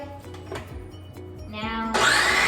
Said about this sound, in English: So I have this little food processor.